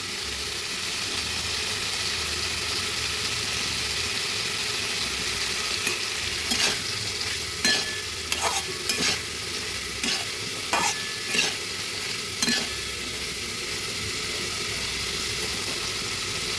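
Tomatoes sizzle steadily as they fry in a pan for a vegetarian kabuli chana paneer dish, with a run of sharp scraping stirs clustered in the middle and no talking.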